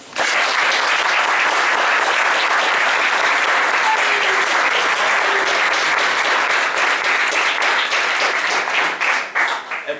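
Loud, sustained audience applause for president Gianluca Iannone at the inauguration of a CasaPound Italia venue, a dense crowd of clapping hands that holds steady and tapers slightly at the very end.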